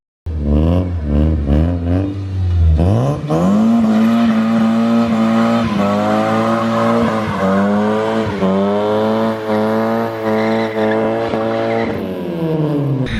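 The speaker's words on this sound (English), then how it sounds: "I think it'd be rude not to finish this video with a burnout." A front-wheel-drive Honda Civic doing a burnout: the engine revs hard and holds a high, steady whine while tires squeal and spin, loud and close, sustained for over ten seconds.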